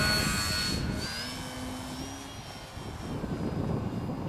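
A radio-controlled model F4U Corsair airplane drones overhead, its high engine whine shifting in pitch as it passes, with steady wind noise underneath on a windy day and no talking.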